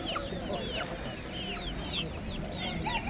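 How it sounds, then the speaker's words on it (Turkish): A crowd of young village chicks at a poultry market in Hendek, Sakarya, Turkey peeps and chirps continuously, many thin overlapping calls over a busy low background hum. "bunlar da karışık köy civcivleriymiş"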